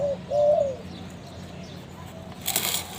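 A zebra dove gives a short, soft cooing call close by, followed by quiet background and a brief rustle.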